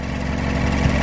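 Mazdaspeed 6 with a freshly installed front mount intercooler, its engine running steadily close by with a low, even drone and a slight swell near the end.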